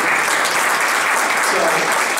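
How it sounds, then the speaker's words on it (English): A big round of applause from an audience at a gathering honouring a guest; dense, loud, continuous clapping fills the whole short stretch without pause. "we should give this guy a big round of applause"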